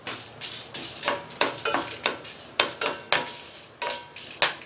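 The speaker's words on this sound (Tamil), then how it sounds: "காஷ்மீரி சில்லி 3 சேர்க்குறேன். 1 நிமிஷம் நல்லா இந்த எண்ணெயில் வறுத்துக்கலாம்." Three Kashmiri chillies frying in hot oil, stirred with a metal spoon that scrapes and clinks against the pan in steady, repeated strokes over a soft sizzle, close and clear with no talking.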